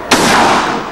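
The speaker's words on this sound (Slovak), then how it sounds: "Výstrel." A single loud gunshot from a film scene, a sharp close blast that cuts in abruptly and leaves a long, dense noisy tail filling the rest of the second.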